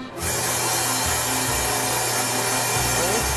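A Berkel X13 meat slicer blade is sharpened with its clip-in sharpening attachment, giving a steady, close grinding rasp that starts abruptly and runs on evenly throughout.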